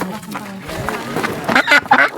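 Ducks quacking while being carried, a few loud, close, harsh quacks bunched toward the end over rustling movement and faint background voices.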